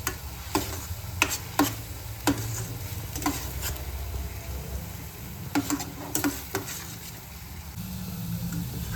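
Chole gravy with garam masala cooking in a pan, a steady low sizzle with a ladle repeatedly scraping and tapping against the metal in irregular clicks, close and moderately loud, no talking.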